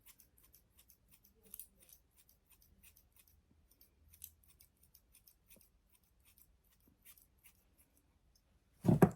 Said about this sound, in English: I'm just going to soften these layers by going in and cutting into them